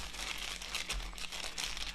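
Deviled egg filling kneaded and squished inside a plastic bag, giving a steady run of close crinkling and soft crunching plastic with a low hum underneath.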